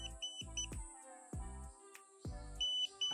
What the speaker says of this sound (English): meron din na may buzzer na kapag na-detect na live ang isang linya,